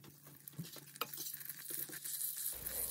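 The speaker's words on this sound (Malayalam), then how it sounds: "ബട്ടർ ചേർത്ത് കൊടുക്കാം." Butter melts in a heated pressure cooker on the stove for vegetable pulao, with a few faint stirring clicks and then a soft sizzle that swells near the end.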